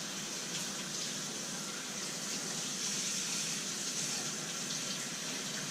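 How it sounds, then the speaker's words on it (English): Tap water runs in a steady, fairly quiet gush while leeks are rinsed for a spicy shrimp noodle soup, a continuous hiss with no talking over it. "So I'm going to have to do a quick rinse of a couple of the tops of the leaves where they came together at."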